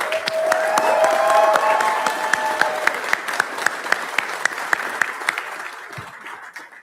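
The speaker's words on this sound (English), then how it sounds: "A special round of applause for all the girls." A council meeting audience applauds a group of girls. The full, dense clapping starts loud, then thins into scattered individual claps as it fades.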